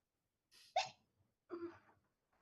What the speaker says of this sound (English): Hiccups, just 2, I think.